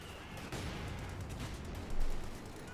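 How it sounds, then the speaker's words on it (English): Sustained machine gun fire in the Company of Heroes 2 battle game, a dense rattling roar mixed with distant explosions that swells briefly toward the end. "Machine gun there, getting grenaded."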